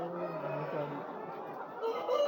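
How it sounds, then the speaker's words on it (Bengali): Roosters and hens clucking and calling together in a short, moderately faint stretch of overlapping fowl voices that rises slightly toward the end. "মোরগ, এগুলো মোরগ"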